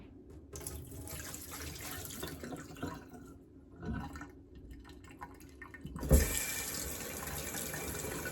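Warm water runs steadily from a kitchen tap into a measuring cup, a continuous splashing stream with a brief louder gush near the end.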